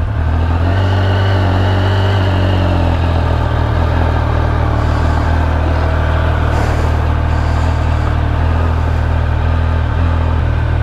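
A Triumph Speed Triple R three-cylinder motorcycle engine idles steadily with a deep, continuous rumble, loud and close, holding an even note throughout with no talking.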